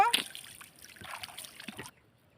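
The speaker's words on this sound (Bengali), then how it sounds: "তো বন্ধুরা আমি জালটা কিন্তু ধুচ্ছি নৌকো নিয়ে" A fishing net used for catching shrimp is rinsed in water from a boat: a sharp splash at the start, then softer sloshing and dribbling that fades to quiet.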